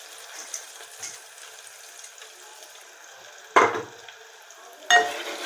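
Almonds are tipped into a frying pan and stirred, giving a faint, steady sizzle with light scraping, broken by two sharper, louder clatters near the end, with no voices.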